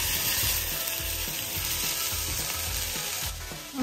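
Leek fries quickly in a pan over leftover browned bits from beef, a loud continuous sizzle with a rapid rhythmic scraping underneath, close up and without talking.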